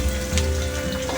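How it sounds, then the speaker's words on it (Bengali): Grated ginger and green chili fry in hot oil in a pan for a vegetarian navratan korma, giving a steady, close, full sizzle with a few small stirring bumps and no talk. "এবার দেবো আমি গ্রেট করা আদা, দেবো কাঁচা লঙ্কা,"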